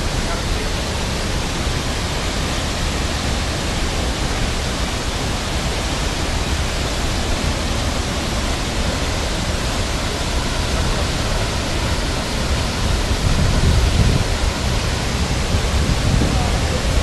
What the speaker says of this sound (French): on est encore plus près de la cascade, donc on voit que c'est quand même un sacré débit.